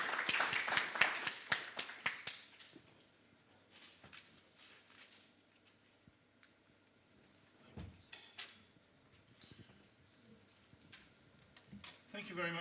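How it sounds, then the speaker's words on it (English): Applause from a small audience at the opening of the Commonwealth Africa Summit, with quick scattered claps loudest at first, then thinning out into faint room noise and a few stray taps. "please give a warm round of applause for the Right Honorable Charles Clarke"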